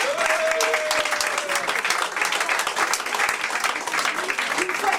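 An audience at a live venue claps steadily and densely throughout, a full sustained applause calling an artist onto the stage, with a faint voice or whistle barely cutting through.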